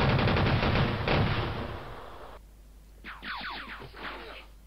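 A musket volley of return fire in the Civil War game Battleground: Antietam rolls out as a loud, crackling burst of overlapping shots over about two seconds, then fades, followed by fainter rising and falling whistling tones.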